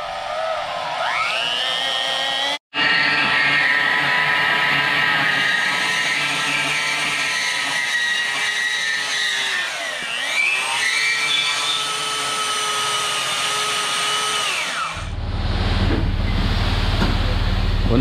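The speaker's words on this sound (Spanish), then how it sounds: "Para cortar utilizamos esta máquina, esta cortadora." A cutting machine slices through quarter-inch-thick metal for a metal and wood pergola, a loud sustained grinding whine with a brief cut-out early on, pitch sagging as it bites, then a louder low rumble at the end.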